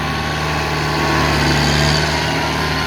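A Kubota M108S farm tractor works a wet paddy field, pushing up a water-retaining bank; its engine drones steadily and loudly at close range, with a slight swell in the middle and no voices.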